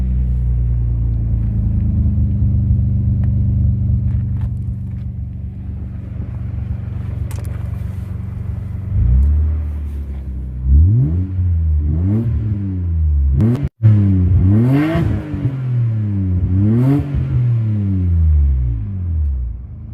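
A Nissan Skyline R33 sedan's 2-litre single-cam six-cylinder RB engine idles with a low steady rumble, then is blipped repeatedly, several loud rising and falling revs close by with short pauses between.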